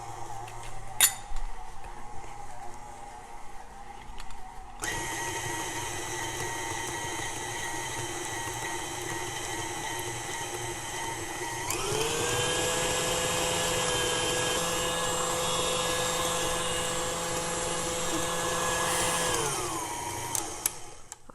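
Electric mixer beating chocolate chip cookie dough: a steady whirring motor hum that starts after a few seconds of quiet and gets louder and harsher midway as the speed rises, with no talking.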